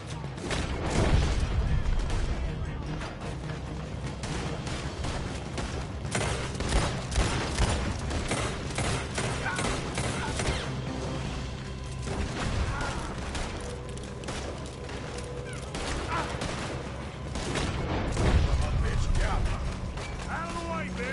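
A shootout in Red Dead Redemption 2 brings repeated gunshots and volleys. They mix with clanking mechanisms and game noise over a long stretch, and voices shout and talk now and then.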